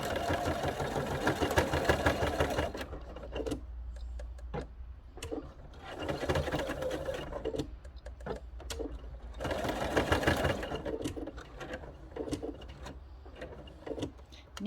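A sewing machine stitches quilted fabric for a conical peg bag, running in several loud, fast bursts of whirring and clatter separated by brief pauses, up close with no talk.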